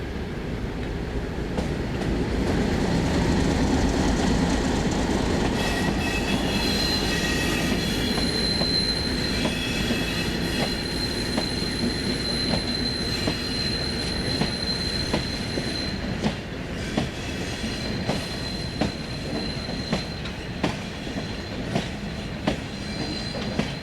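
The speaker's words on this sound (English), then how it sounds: "A train of empties is about to leave." Empty coal wagons of a departing train roll out of Cotton Power Station, a steady loud rumble with rhythmic wheel clicks over rail joints and occasional wheel squeal, sustained throughout.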